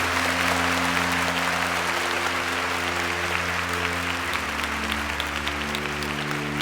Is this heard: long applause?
yes